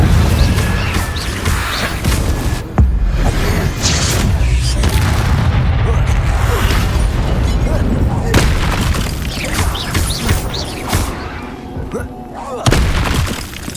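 Fire spell Incendio cast repeatedly in the game Hogwarts Legacy, heavy booming bursts and crashing impacts filling the scene over a dense rumble, with a voice speaking at times.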